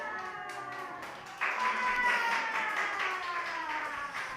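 Children at an elementary Sunday school service clap, a thin scattered patter at first that suddenly grows into fuller, livelier applause before easing slightly near the end.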